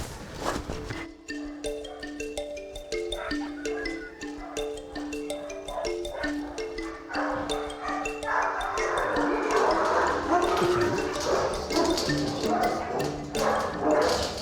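Dogs at an animal shelter bark repeatedly in short, sharp bursts, some close and some farther off, with whimpers and yips mixed in as a person talks over the din.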